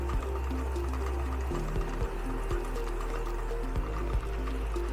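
Envelope printer running steadily, a constant mechanical hum with repetitive rhythmic clacks and thumps as envelopes feed through and exit, close and continuous.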